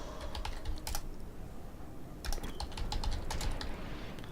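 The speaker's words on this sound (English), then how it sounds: "Hopefully that typing noise isn't too much for you through the microphone." Computer keyboard keys clatter in quick bursts during a World of Warships game, with irregular clusters of clicks and a brief pause near the middle, close and fairly soft with no speech.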